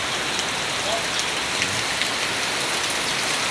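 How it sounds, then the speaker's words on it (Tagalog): Typhoon Emong's downpour hammers down in a constant, even roar of heavy rain, close and loud throughout with no pauses. "Malakas pa ulan yan."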